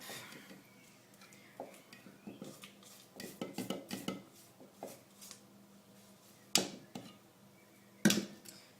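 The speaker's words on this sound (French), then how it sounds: "bien venir racler le fond, que tout soit bien mélangé" A spatula scrapes and knocks around the bottom of a bowl while mixing Nutella banana muffin batter: irregular close scraping strokes and soft clatters, with two sharper clanks near the end.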